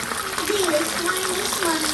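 Water gushes steadily from a kitchen tap, a continuous splashing rush close by, with a voice talking over it.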